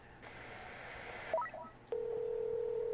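A phone is dialed in the video game Case Files: The Death of Paulette Williams: a steady tone, then a quick run of keypad beeps, followed by a single sustained, clear ringing tone.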